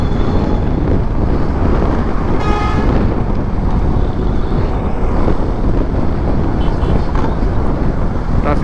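City traffic in Bengaluru heard from a moving FZ250 motorbike, with a dense roar of engines and wind buffeting the microphone, and a horn tooting briefly partway through.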